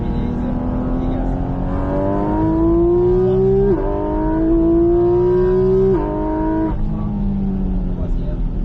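Race car on the Bresse circuit accelerating hard, loud engine note climbing through repeated gear shifts with sharp drops between pulls; an instructor's voice talks over it.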